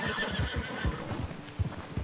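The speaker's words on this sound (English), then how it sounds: "Should get a hold of that horse, Arthur." A horse whinnies loudly amid a rapid clip-clop of hooves in the video game Red Dead Redemption 2, with scattered low thuds from the game soundtrack in the background.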